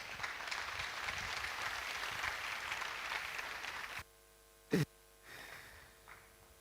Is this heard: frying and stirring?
no